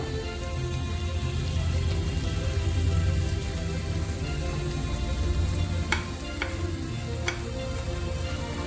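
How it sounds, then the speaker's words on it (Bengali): Ginger frying in oil in a pan for a cauliflower roast, a steady close sizzle throughout with a few sharp clicks of stirring near the end, no talking. "আদাটা ভালোভাবে ফ্রাই করে নেবো যাতে আদার কাঁচা গন্ধটা চলে যায়"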